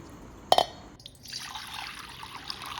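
A litre of water goes into a cooking pot for boiling drumsticks (moringa pods): one brief splash, then a soft, steady trickle of pouring liquid, quiet and close.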